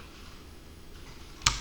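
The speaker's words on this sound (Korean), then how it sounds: "키보드를 눌렀다가 뗐어요." A single computer keyboard key gives a short, crisp click near the end of a quiet stretch, close to the microphone.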